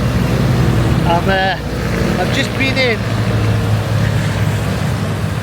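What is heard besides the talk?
busy road traffic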